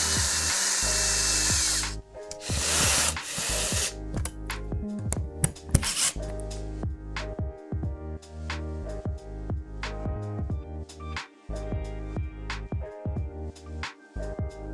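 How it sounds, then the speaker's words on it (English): A power screwdriver drives screws into a wooden Clava Up unit during assembly, whirring in repeated short bursts, close and loud, with clicks and knocks of screws seating between runs; a harsh grinding burst at the start. "You can use a handheld screwdriver, but I'm using a power tool here."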